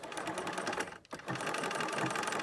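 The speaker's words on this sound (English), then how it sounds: "now we're ready to stitch our fronts. And I'm just using a very regular straight stitch for this" Domestic sewing machine running a regular straight stitch across garment front pieces, a fast, even mechanical chatter that stops for a split second midway, then resumes steadily, close and alone.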